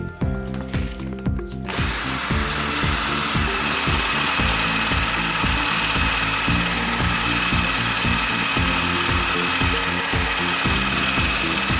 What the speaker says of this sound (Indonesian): kita gunakan mata bor kecil untuk melubangi